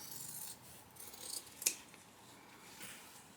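Quiet, close scissor snips trimming excess fabric while sewing a bag, with a single sharp cut standing out midway over a soft rubbing background.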